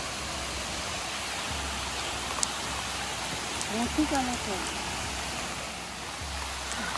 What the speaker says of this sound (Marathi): पावसाची स्वर बघा ह्या डोंगरातून कशी येते किती मस्त आवाज येते पावसाचा